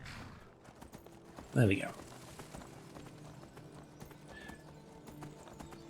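A horse in the video game Skyrim clip-clops at a walk with a short loud neigh early on, the hoofbeats steady and moderate under someone talking.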